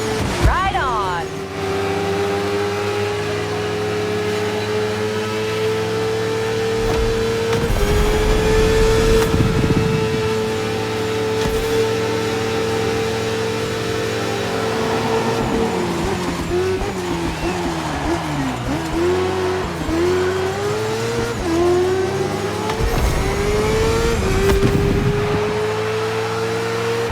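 A performance motorcycle, a souped-up version of a street bike, revs and roars loudly in The Crew Motorfest. The engine pitch climbs and falls steadily through gear changes, close and continuous, with tire and road noise underneath.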